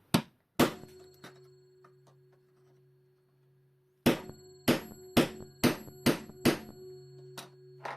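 Sharp metallic hammer strikes on a quartz clock plate: two separate whacks, then a quick rhythmic run of about seven blows, close and loud with ringing tails and a faint steady hum underneath.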